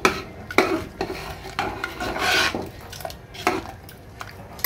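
Turmeric is stirred into moong dal in a pot, giving close, rhythmic scraping and rubbing strokes of a spoon against the pot.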